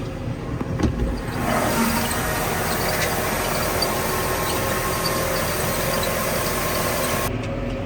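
A John Deere 6120M tractor engine hums steadily while hay is being raked, a smooth, constant drone heard from inside the cab with no speech.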